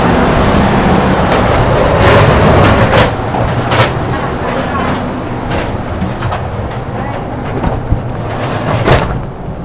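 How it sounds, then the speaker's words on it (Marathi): Train to Hat Yai: loud, continuous rumble and clatter of the train and station while boarding, steady throughout, with scattered voices and clanks mixed in. "तर ही बघा आपली हातियाईची ट्रेन नंबर 31, कार नंबर 9 आणि हातियाईला जाणार आहे."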